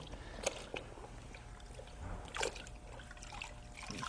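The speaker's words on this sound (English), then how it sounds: "wring the towel out to get the bleach off, put it into the rinse solution" A bleach-soaked towel is wrung out into a rinse solution, giving a soft trickle and a few quick splashes of dripping water close by.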